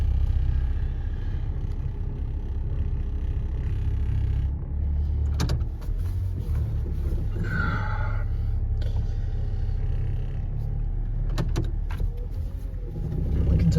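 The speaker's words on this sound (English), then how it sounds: "But we're backing this one out of the driveway here." A car backs out of a driveway on a cold day, a low steady engine rumble throughout with a couple of brief squeaks and clunks, fairly close and without talk.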